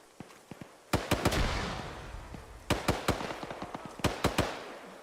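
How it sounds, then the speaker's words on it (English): Sharp, loud blasts from a frag grenade and gunfire in the military video game Arma, several cracks in clustered bursts with ringing tails across a battlefield soundscape. "Remember to use your grenades. We have them for a reason. Frag out."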